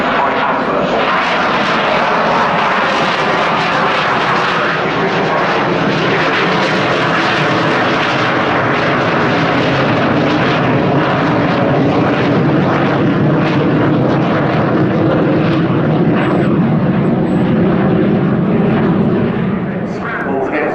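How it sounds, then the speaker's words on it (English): An aircraft flies a high-alpha slow pass at the RIAT 2025 airshow, accelerating to about 120 knots, its engine a loud, steady roar that fills the whole stretch without pause. "So the aircraft is accelerating to about 120 knots, which is about 140 miles per hour."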